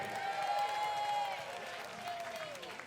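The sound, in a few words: audience applause at a battle of the bands concert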